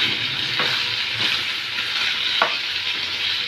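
Chicken fries in a pan as lemon juice goes in for palak chicken, giving a loud, steady sizzle with a few sharp clicks and crackles, close by and with no speech.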